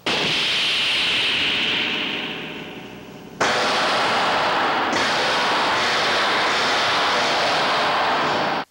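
A loud, continuous roar of rotor and engine noise, dipping slightly before surging back abruptly and holding steady until it cuts off.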